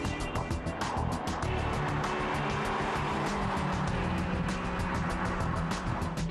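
A 2006 Mitsubishi Eclipse driven along the winding Angeles Crest Highway in Southern California, a steady engine drone with road and wind roar heard from inside the car, continuous and fairly quiet, without talking.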